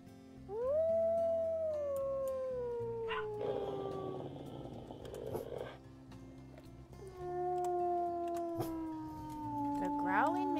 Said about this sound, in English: The growling makes me go.